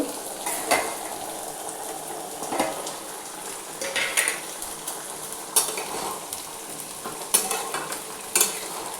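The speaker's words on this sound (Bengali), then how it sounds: "এবারে একটু ফুটবে, জলটা একটু মরবে, নুনটা ঢুকবে, মিষ্টিটা ঢুকবে।" Papaya curry simmers and sizzles in a pot, with a steady frying hiss broken by intermittent clinks and scrapes of a utensil stirring against the pot, close and alone without talk.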